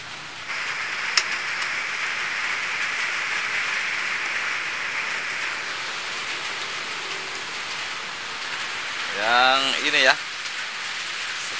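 Rain falls outside as a steady, even hiss of drops that runs the whole length. A brief voice-like sound rises near the end.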